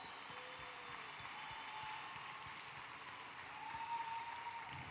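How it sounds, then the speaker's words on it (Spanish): Applause from a concert crowd for the band at a live show celebrating Río Gallegos' 137th anniversary, a steady distant wash of clapping with a faint whistle or two rising over it, sustained throughout. "Quiero brindar un aplauso muy grande para todos mis músicos maravillosos"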